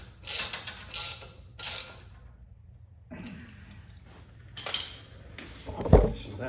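Tightening bolts on the steering of a 1959 Chevrolet Impala gives a few short metallic rattling bursts and creaks, then a quiet stretch, more scraping, and a sharp clank near the end, all close by.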